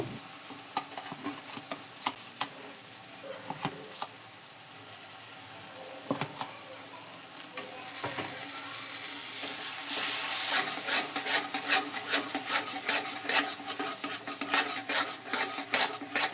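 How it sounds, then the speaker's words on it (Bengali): Nut paste for an egg curry sautéed in a pan: scattered metal clinks and scrapes at first, then a louder sizzle with quick repeated stirring strokes building through the second half, close by. "বাদামের পেস্টটা দিয়ে একটু কষিয়ে নেব।"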